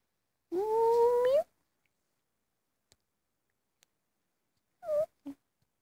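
A single drawn-out meow from a hungry cat waiting for food outdoors rings out close by, then after a quiet pause comes a shorter meow and a small chirp.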